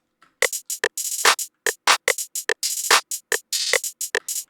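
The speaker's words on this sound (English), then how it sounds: "And I moved onto the hi-hat." A programmed trap-style hi-hat pattern runs in a fast, uneven rhythm, mixing straight hits with quicker triplet bursts, crisp and bright, playing alone without other drums.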